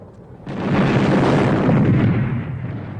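A battlefield cannon fires in a sudden loud blast that swells into a sustained, roaring rumble lasting a couple of seconds before slowly fading, with no voices.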